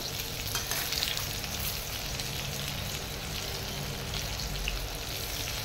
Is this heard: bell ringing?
no